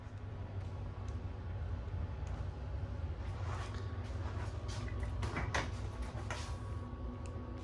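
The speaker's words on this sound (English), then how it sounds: "So, three drawers there." In a travel trailer kitchen, three drawers slide open and shut in a few soft knocks and rumbles, faint over a steady low hum.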